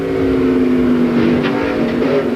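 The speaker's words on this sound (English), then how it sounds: "That all started back in turn 1 with PJ taking a run at Leitzinger and trying to play a little bit of hardball. Here it is from PJ's car" Onboard race car engine at the 2000 Lysol 200 sports car race, a loud steady high-revving drone heard from inside the car, close and continuous with no speech.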